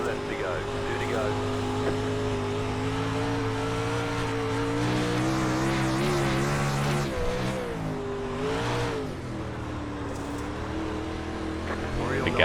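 A 360 sprint car in the iRacing video game, lapping Port Royal Speedway, holds a steady loud engine drone with pitch rises and dips as throttle changes, while a voice talks over it.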